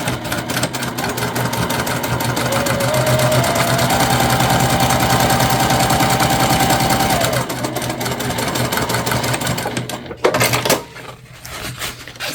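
Sewing machine stitching a tote bag, a rapid steady mechanical whir for several seconds that stops, followed by a few brief clicks and handling noises.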